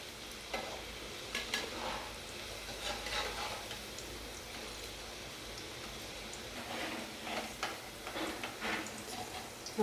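French fries in their second frying bubble and sizzle in hot oil, a steady close crackle with scattered pops and occasional stirring, no voices.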